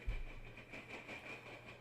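A freight train with tank cars rolls past, a steady rumble with faint clickety-clack of wheels and a sustained high squeal over the rail noise.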